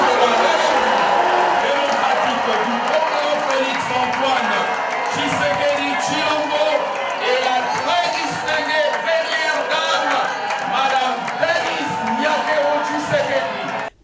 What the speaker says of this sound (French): C'est un déferlement d'applaudissements qui accompagne l'entrée du couple présidentiel